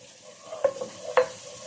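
Garlic fries over high heat in a pan as a utensil stirs it, a soft steady sizzle broken by two sharp scraping taps of the spoon against the pan.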